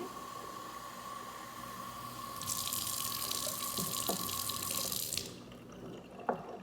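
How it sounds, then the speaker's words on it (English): Tap water runs hard into a container for a few seconds, a steady loud hiss that cuts off, followed by a couple of faint clinks. "I go ahead and fill it up with water again."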